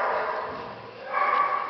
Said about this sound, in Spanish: Perrita, hembra, súper salada, marroncita y negra.